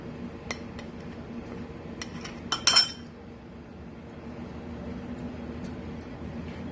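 Metal tablespoon clinking against a mug while scooping ingredients for an eggless microwave mug cake, a few close, bright taps and a quick cluster of clinks, otherwise quiet with no talking.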